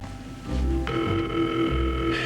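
A telephone rings in a 1984 television soap opera scene, a sustained electronic ring tone starting under a low background hum and continuing to the end.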